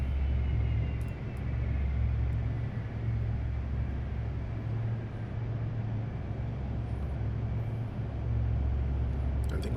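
A C-130J auxiliary power unit running in DCS World, a steady loud rumbling drone with a constant low hum and faint whine, continuous and unbroken.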